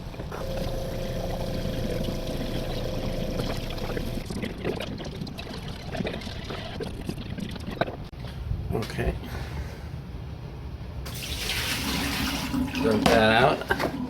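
Water and leftover descaling solution slosh and pour steadily from a De'Longhi Dinamica Plus espresso machine's water tank, then a louder gush with bubbling near the end, with some talking mixed in.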